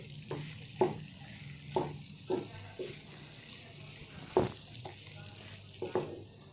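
Potato rice being stirred in a pan, with repeated spoon scrapes and clinks at an uneven rhythm over a soft low sizzle, fairly quiet and without speech.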